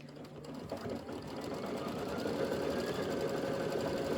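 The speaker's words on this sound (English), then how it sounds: "go ahead and hit start and stitch out the quilting" A Brother Luminaire embroidery sewing machine stitches out quilting, a rapid, steady mechanical whir that rises slightly and then holds evenly, close and alone.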